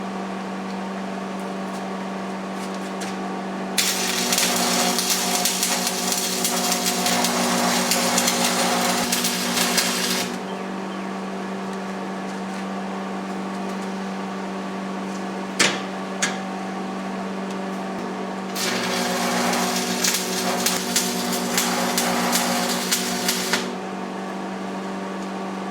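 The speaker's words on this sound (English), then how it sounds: "Seeing how nasty this welding rod is." Stick welding with a welding rod while building a custom forge: two long bursts of loud crackling, hissing arc noise, each about six seconds, over a steady mechanical hum with a sharp click between.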